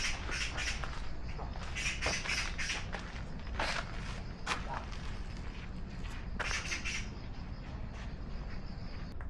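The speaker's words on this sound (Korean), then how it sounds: "까치까지 울어주니까 더 느낌 있네요." A magpie calls in a Korean hanok alley lined with traditional walls, giving repeated harsh squawking bursts in clusters over light outdoor background noise.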